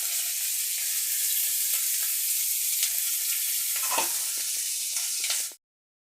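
Tangra fish fry in hot oil with a loud, dense, continuous sizzle that holds steady and close, with a few crackles and a stir near the middle, then cuts off abruptly near the end. No one speaks.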